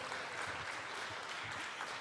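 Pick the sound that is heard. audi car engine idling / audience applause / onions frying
audience applause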